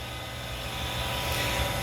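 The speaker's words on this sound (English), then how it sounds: "I apologise for the noise, but that's why I don't use that pump anymore." The pump of a homemade pool vacuum runs with a loud, steady droning hum and a low rumble, holding constant throughout without pause.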